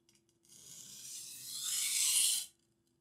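A kitchen knife blade sharpened from tip to heel on a stone, giving one continuous, close rasping scrape that builds in intensity and then stops abruptly.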